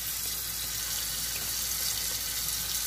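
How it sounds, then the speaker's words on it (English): Cold tap water runs into a bowl for rinsing during sancocho prep work, a loud, steady, close hiss of flowing water without a break and with no talking. "I'm going to put some water in this so they don't brown. Cold water."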